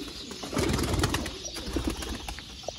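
Ferozpuri breeder pigeons give soft cooing calls with a brief flutter of wings. The sounds are moderately close and fairly quiet, with no one speaking.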